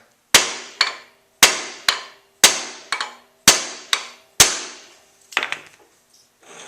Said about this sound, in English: Give it a whack with a hammer.